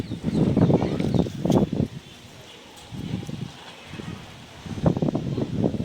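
Strong wind blows outdoors among mango trees, buffeting the microphone in loud, rumbling gusts separated by short calmer lulls.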